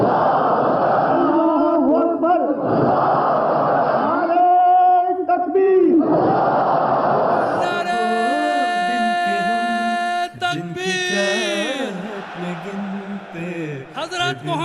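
A large crowd at an Ahmadiyya Jalsa Salana gathering in Germany chants the slogan Allahu Akbar in loud, repeated call-and-response bursts, with a leader's voice and rising chorus swells echoing through a big venue.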